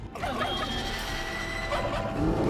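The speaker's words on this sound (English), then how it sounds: "Destroy the turkeys." Several turkeys gobble in a dark, stormy area of a janky soulslike video game, a steady dense layer of game sound running throughout with no talk over it.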